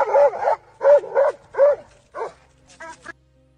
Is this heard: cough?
no